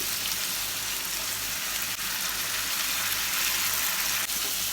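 Masala paste for a dried-fish (shutki) dish fries in hot oil in a pan, making a loud, dense, continuous sizzle that runs steadily throughout without a break, with no voices.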